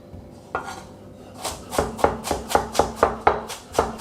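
A knife chops carrots steadily on a cutting board, about a dozen crisp, evenly spaced strikes quickening into a regular rhythm.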